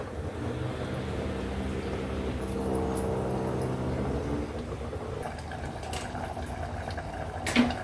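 A potato and dried fish curry steams under a lid over a low gas flame, a faint steady simmering hiss with a soft clink near the end.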